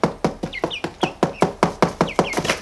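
Rapid, sharp tapping knocks on the ground imitating a mother hen repeat in a steady rhythm close by, with soft chick-like chirps and clucks mixed in between the taps.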